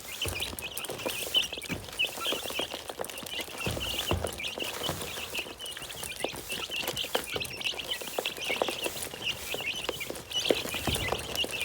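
Backyard chicks and hens cluck and cheep continuously at close range, with scattered scratching and light rustling and no talking.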